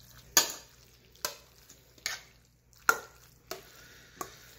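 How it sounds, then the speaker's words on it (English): Cavatappi pasta is tossed with sauce in a quiet pan, giving a handful of separate wet spoon clacks and short scrapes spaced about a second apart, close and fairly soft, with no voice. "I'm going to mix everything together."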